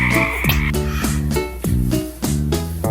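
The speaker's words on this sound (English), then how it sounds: "F is for frog." A frog croaks in a steady series of short, repeated pulses about every half second, moderately loud over light musical accompaniment in a children's song.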